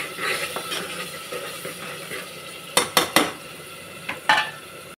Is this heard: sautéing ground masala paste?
yes